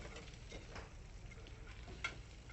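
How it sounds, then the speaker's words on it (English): Small crayfish sautéing in butter in a frying pan, a quiet continuous sizzle with faint stirring ticks and one brief sharper click, heard close but at low volume. "And now I'll saute a small crayfish very quickly in this frying pan."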